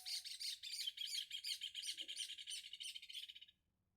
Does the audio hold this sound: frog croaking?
no